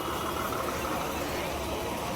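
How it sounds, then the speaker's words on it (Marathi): A Dapoli–Mandavi bus sits idling, its engine a steady, even drone that fills the clip at moderate loudness, with faint crowd noise mixed in. "दापोली मांडवीची गाडी लागली. तर आता मी चाललो आहे गाडीमध्ये."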